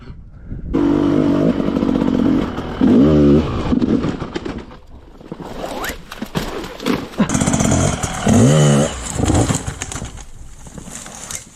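An enduro motorcycle engine revs hard in bursts while trying to climb a slope, loud, close and rising and falling, with a quieter stretch between two strong runs of throttle.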